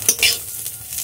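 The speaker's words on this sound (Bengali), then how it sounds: "ভালো করে নেড়ে নিলাম" Vegetables lightly fried in a pan and stirred after ground black pepper goes in, a brief burst of spatula scraping over a soft sizzle, close and alone.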